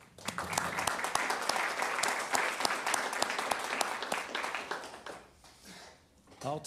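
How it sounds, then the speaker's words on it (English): Applause at a city board of commissioners meeting, a sustained patter of many hands clapping that swells, then fades out after about five seconds, leaving quieter room noise and a brief voice. "he needs a round of applause because they are excellent"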